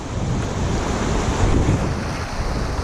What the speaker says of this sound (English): This is the blue chute rapid.